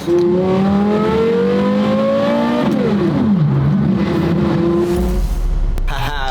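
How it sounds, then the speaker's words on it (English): A loud straight-piped V10 exhaust roars close by, its pitch climbing through revs, dropping sharply, then climbing again, harsh and raspy throughout. "let's listen to that beautiful straight piped unobtainium in-canal exhaust on that V10."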